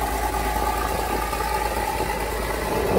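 A Porsche Cayman GT4 engine runs at a steady, low idle-like rumble as the car is driven down off a flatbed truck, continuous and fairly close with no voices.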